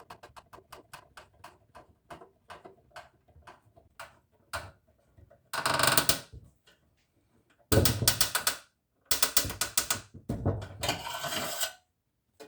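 Screws are driven into the back of a resonator guitar neck heel, through the body block: rapid ticking clicks from the driver, then several longer bursts of grinding whir as screws bite into wood, close and alone.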